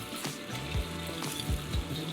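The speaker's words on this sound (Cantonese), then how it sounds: "慢慢煎下佢。" Crab pan-frying with ginger and scallion in a hot pan, a steady close sizzle with faint stirring knocks, no talk over it.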